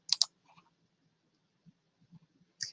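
A few crisp computer mouse clicks, a quick double click at the start and another near the end, close and dry, with soft low murmurs between them.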